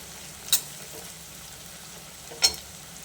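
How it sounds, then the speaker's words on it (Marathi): A faint, steady sizzle of onions frying in a pan, marked by two brief, crisp spatula clicks about two seconds apart, with no voices. "तर छान असा लाल तळला येतो कांदा वगैरे"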